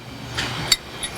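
Bushings from a CPP narrow leaf spring kit are hammered into the frame of a 1962 to 1967 Chevy Nova, giving about three sharp, close metallic taps spaced well apart, with no talking.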